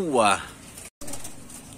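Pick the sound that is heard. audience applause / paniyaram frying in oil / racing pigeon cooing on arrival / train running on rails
racing pigeon cooing on arrival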